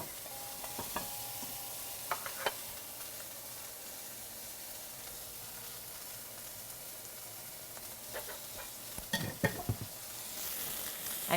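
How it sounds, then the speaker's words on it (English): Tomatoes sizzle softly in a frying pan for gnocchi with salmon and peas, a faint steady crackle with a few brief scraping stirs and pan shakes, no one speaking. "You guys hear those tomatoes sizzling or what?"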